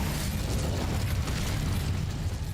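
An Incendio fire spell cast in Hogwarts Legacy, a dense, continuous roaring whoosh of flame with a crackling, rumbling burst that stays loud and steady throughout, with no voices.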